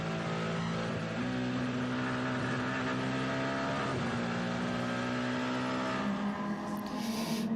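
Race cars taking the Porsche curves at the Le Mans circuit, a steady loud engine drone with sustained tones that shift pitch slightly as the cars hold speed through the corners.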